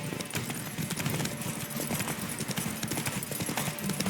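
Roach, a horse in The Witcher 3, gallops with quick rhythmic hoof clops at close range, a steady, energetic beat continuing throughout over a busy game soundscape.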